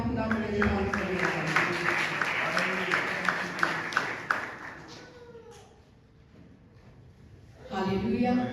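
A church congregation applauds in loud, sustained clapping, mixed with music and voices, then fades to near quiet before the sound swells again at the end.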